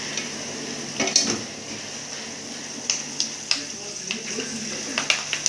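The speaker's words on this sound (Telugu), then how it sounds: "ఇందులోనే కొంచెం కరేపాకు వేసి వేయించుతాను" Curry leaves fry in a pan with the gobi manchurian, a low steady sizzle under sharp, scattered clinks and taps of a spatula stirring against the pan.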